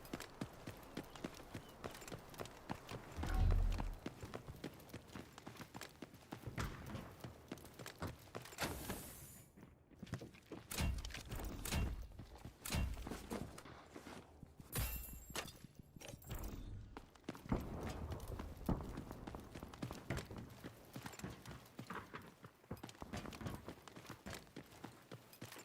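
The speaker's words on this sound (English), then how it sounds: "I do not like all these footsteps I'm hearing" Fast, repeated footsteps in Delta Force clatter on hard ground, with faint thuds and scuffs at shifting distances as several enemies run, mostly quiet and unbroken by speech.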